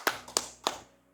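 Three sharp hand claps, evenly spaced about a third of a second apart, close and fairly quiet in an otherwise still room.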